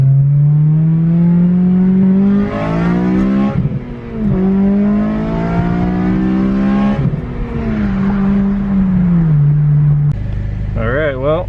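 A car engine drones loudly from inside the vehicle on the road, rising in pitch as it accelerates and dropping with each gear change, several times in a row.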